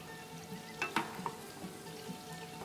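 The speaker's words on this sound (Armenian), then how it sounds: "Թող տապակվի մեր սոխը" Onions frying in a pan make a faint, even sizzle, with a couple of light clinks from stirring partway through.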